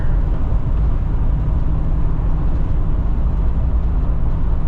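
Steady, loud road noise from worn, cupped tires rolling at 45 mph, a constant low rumble and broadband roar with no break across the stretch and no talking over it.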